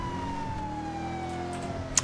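A police car siren wails in a GTA video game, a steady, sliding electronic tone held over a low traffic rumble, fairly faint and without talk.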